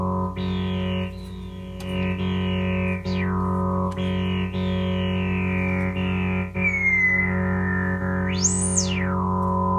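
A refurbished Moog Taurus synthesizer set to its variable setting drones steadily with a thick sustained tone while filter sweeps rise and fall repeatedly, ending in a sharp upward sweep, loud and close with no talking.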